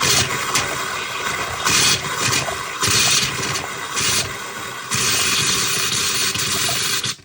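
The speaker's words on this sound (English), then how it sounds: "until we get all that water out and it starts to spit" Compressed air forced through a camper's hot-water plumbing during winterizing blowout hisses and sputters for several seconds, in loud rough bursts with brief dips before a longer, steady gush of air and spitting water.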